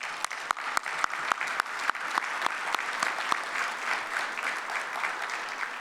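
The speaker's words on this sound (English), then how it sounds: "Give her a round of applause." Gala audience breaks into applause, a steady crowd clatter punctuated by several sharp, distinct nearby claps in an uneven rhythm, holding at moderate loudness throughout.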